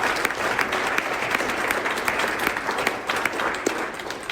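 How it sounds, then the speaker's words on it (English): A round of applause for an event committee at the 2022 Medicine Hat Roundup: dense, steady crowd clapping with scattered sharper claps, sustained evenly across the whole stretch. "So just a round of applause for the whole committee"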